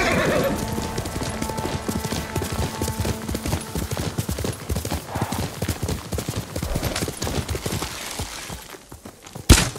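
Steady clip-clop of horse hooves trotting in the video game Ghost of Tsushima, with an occasional whinny and game ambient sounds, ending in a sharp burst.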